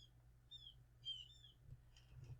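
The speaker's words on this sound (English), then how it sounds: "Pardon the birds out my window, los pájaros. They're especially noisy today." Faint bird chirps come from outdoors in short high bursts over a steady low hum, scattered across a quiet background.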